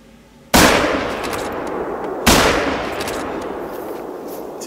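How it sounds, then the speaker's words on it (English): Two booming rifle shots fired at a bison while hunting in The Hunter: Call of the Wild, each loud and near with a long rolling echo decaying across the open landscape, spaced under two seconds apart. "Two shots should do it."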